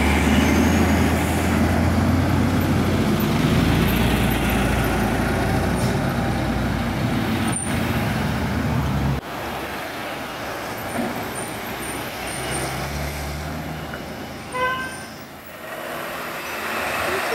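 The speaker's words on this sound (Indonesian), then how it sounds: "jangan-jangan truk Pertamina bosku di arah atas menuruni tanjakan Cipirang ini bosku ya" A Pertamina fuel truck coming down the steep Cipirang hill, a heavy, rumbling engine and road roar that stays loud, then eases to a lower, steadier drone with faint traffic around it.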